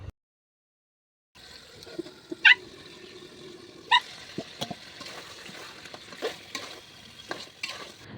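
Spices fry in a pan and are stirred and scraped with a utensil, giving a steady sizzle after a silent start, with repeated scraping strokes and a couple of sharp metallic clinks, close and clear.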